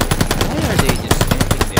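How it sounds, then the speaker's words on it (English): Rapid bursts of MP40 submachine gun fire in Call of Duty: Vanguard, set in the Rats of Tobruk mission. Loud, close shots crackle in quick rhythmic strings with brief pauses between volleys, and a faint voice sits underneath. "Let's use the MP40, come on"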